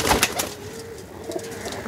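A Saharanpuri pigeon in a home loft gives a short, soft cooing call, low throaty notes close by, with a few sharper wing or foot sounds at the start.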